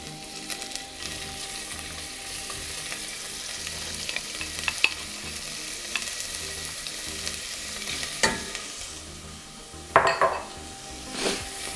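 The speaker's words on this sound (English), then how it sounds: "I'm going to add in about half of our onions very carefully to the pot." Onions sizzle in hot oil in a pot for a red lentil bolognese, a steady close crackle with occasional stirring scrapes and utensil clinks against the pot, and no talking.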